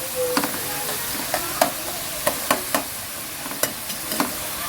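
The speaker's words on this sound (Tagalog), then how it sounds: "Ilagay na natin yung ating pineapple chunks." Pineapple chunks stirred into kangkong adobo sizzling in a pan, with a steady frying hiss broken by about a dozen short, sharp scrapes and clatters of a utensil. No one speaks.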